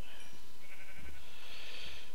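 Sheep bleat in the video game Minecraft version 1.8, with a couple of soft, fairly faint bleats over a steady background hiss and no talking.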